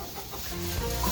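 Chickens settling into a freshly cleaned coop with a thick layer of straw give short, soft clucks and murmurs, heard close and brief without any talking.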